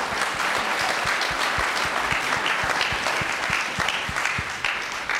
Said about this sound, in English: Let's give her a round of applause for sharing that story.